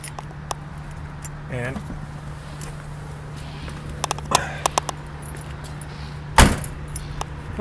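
Keys to a 1973 Chevrolet Corvette jingle in a few short metallic bursts over a low steady hum, with a sharper clatter near the end.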